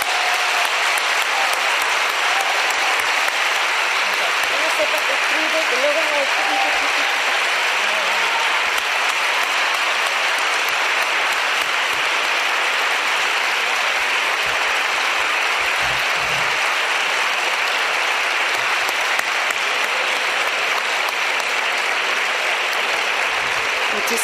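Sustained, dense applause from a conference audience fills the hall after a closing lecture, loud and even for over twenty seconds with no break, a few faint voices buried beneath it.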